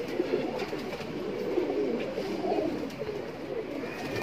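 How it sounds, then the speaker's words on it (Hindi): Allahabadi pigeons offered for sale alongside large kaldume birds coo continuously in a soft, low, rolling murmur, close and steady with several birds overlapping and no talk. "इलाहाबादी कबूतर है"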